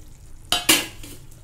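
Paneer with fenugreek being stirred in a pan by hand: two short, close scraping bursts over a soft sizzle, each rising sharply and then fading.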